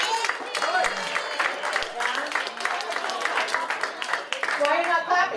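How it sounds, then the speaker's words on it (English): An audience in a room claps together in a dense, continuous patter of hands, with some voices mixed in. "Clap if you're aging."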